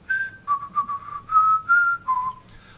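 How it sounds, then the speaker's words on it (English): A single person whistles a short melody, about seven clear notes with brief gaps between them, close and fairly loud. "I wasn't intending on whistling."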